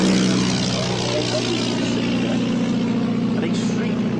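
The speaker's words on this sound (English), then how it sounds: "an extremely rare aeroplane is this." A rare vintage propeller aeroplane built by Armstrong Whitworth sits on the runway at Old Warden, its engine droning loudly and steadily throughout with a throbbing propeller hum.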